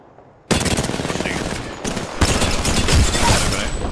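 Sustained automatic gunfire rattles continuously in a Hammerpoints-and-Horizon duos shooter match, dense and loud bursts with a short gap midway before firing resumes.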